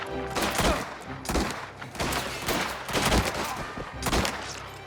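A gunfight in the video game Mafia: The Old Country: repeated loud gunshots and bursts of rapid fire crack in quick, uneven clusters for several seconds.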